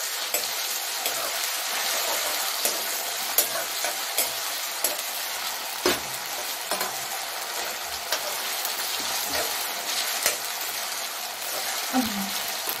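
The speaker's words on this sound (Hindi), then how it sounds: "मैं डालूंगी इसके अंदर थोड़ा सा जीरा, सरसों, अभी हम मिक्स कर देंगे।" Cumin and mustard seeds sizzle in hot oil as they are mixed, giving a continuous crackling hiss with scattered spoon taps and small pops, moderately close and with no voices.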